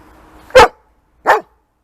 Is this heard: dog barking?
yes